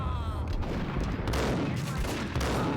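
Rapid bursts of gunfire fill a Max Payne shooting sequence, loud and continuous with overlapping shots and impacts, heard without voices.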